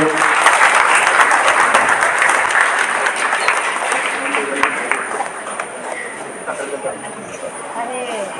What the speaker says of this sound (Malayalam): എല്ലാവരും കൈയടിച്ച് സ്വീകരിച്ച്